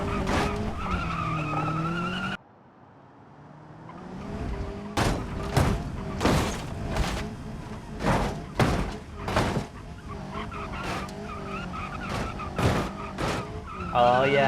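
A car driven at full speed in second gear in a driving video game on an ancient road in an old European city, with a damaged oil pan and ruptured fuel tank. Engine roar runs throughout, broken by a brief silence and then repeated loud thuds and skids.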